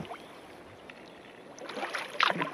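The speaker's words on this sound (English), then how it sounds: "So I'm paddling down again," Kayak or canoe paddled downstream on a misty, thundery, cool day in Alaska, with soft water swishes and splashes that build toward the end, close and moderately faint.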